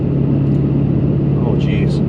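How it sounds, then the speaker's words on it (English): A Dodge Challenger with a manual gearbox cruises in sixth gear, giving a steady, loud low engine drone and road rumble close inside the cabin, while a voice talks over it. "I'm gonna go into sixth gear and just see what that's like."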